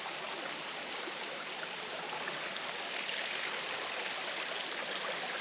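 Creek water flowing steadily at moderate volume after a tropical storm, a continuous broadband rushing and trickling that stays even throughout with no voices.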